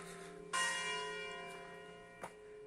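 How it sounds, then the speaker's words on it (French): Church bells ring near a remarkable church in a valley in the Aude, one bright clang that decays slowly with lingering overtones, then a second softer strike about two seconds later. "et des belles cloches."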